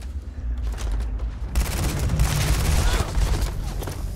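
A grenade explodes behind the player in a modded Starfield game, starting as a dull thump and opening into a loud, sustained crackling blast with rumbling debris.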